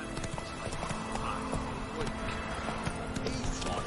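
Roach the horse gallops in a video game, a rapid continuous drum of hoofbeats under a voice and game sounds.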